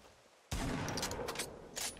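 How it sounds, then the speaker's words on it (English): Gunfire in the Fortnite battle royale game bursts in suddenly after a quiet moment, forming a dense, loud volley of rapid shots that keeps going to the end. "Oh, there's someone shooting at me."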